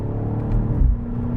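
A 2024 BMW X5 M Competition engine downshifts and revs, a loud, close low rumble that swells briefly in the middle before settling back to a steady drone, with no voices.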